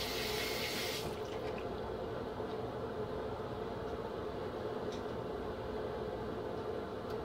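Water runs from a tap to wet a shaving brush, a steady mid-level hiss that carries on for several seconds. A brighter splash at the start drops away after about a second, leaving the even flow alone.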